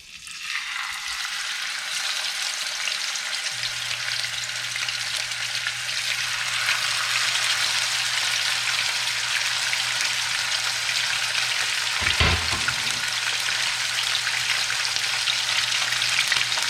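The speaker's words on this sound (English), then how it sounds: "You want to hear it sizzling." Steady, dense sizzle of sheepshead fish fillets frying in hot oil, a continuous crackling hiss with a low hum underneath and a brief louder pop midway.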